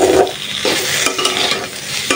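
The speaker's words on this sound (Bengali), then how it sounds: "একটু ভাজা ভাজা করবো।" Sliced bitter gourd (karela) with a slit green chili frying in a pan, with a steady sizzle broken by repeated scraping stirs, close and fairly loud, with no talking.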